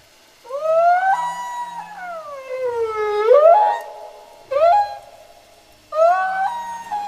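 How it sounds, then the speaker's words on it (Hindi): A humpback whale sings long, gliding moans that rise and fall in pitch, delivered as several separate drawn-out phrases with short silences between them, heard alone. "हम्पबैक व्हेल मछलियों का सिंगिंग करना सबसे ज्यादा खास माना जाता है"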